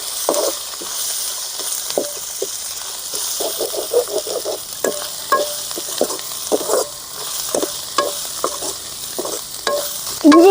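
Onions with ginger garlic paste sizzle steadily in a pan, with a spoon stirring and scraping in repeated bursts throughout, close and fairly loud with no talk.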